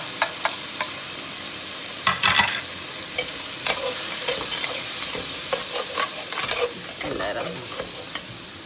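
Ground red chilli, salt, turmeric and crushed dry coriander are stir-fried in a pot for turnip curry, giving a steady close sizzle broken by repeated sharp scrapes and clinks of a spoon against the pan. No one speaks.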